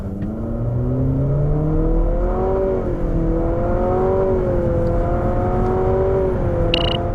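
An Infiniti QX50 AWD, a top-spec four-wheel-drive model, accelerates hard with a steady, loud engine note that climbs in pitch through several smooth rises and dips, with no talking.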